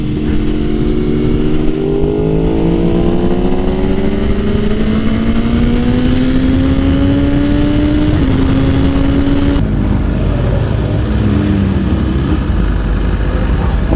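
Ducati V4S motorcycle engine, heard close and loud as a sustained rising rev that climbs through several steps before dropping away, with other bikes idling nearby at a ride gathering.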